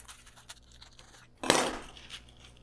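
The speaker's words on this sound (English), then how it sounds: "so I'm just gonna cut it down this crack." A knife slices through the bread of a ham and cheese sandwich along an existing crack, giving one short, close, crisp crunching cut that fades out, with small quiet clicks just before.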